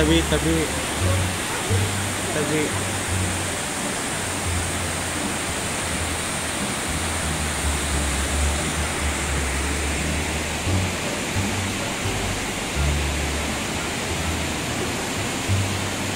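Steady rushing water in Taroko, Taiwan flows continuously, a broad close hiss with a low rumble underneath, unbroken for the whole stretch.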